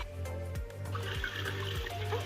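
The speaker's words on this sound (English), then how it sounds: "So add the water slowly to avoid it from splashing and making a hole" Cold water poured slowly onto soil held in a basket for village salt mining gives a soft, steady trickle and gurgle up close, over a low repeating background hum.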